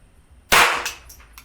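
A single sharp crack from a Marlin Papoose .22 rifle fired outdoors, close and loud, with a short decaying echo after it.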